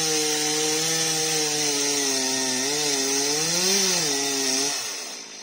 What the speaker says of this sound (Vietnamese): Rồi anh cưa cho ngã luôn các bạn ơi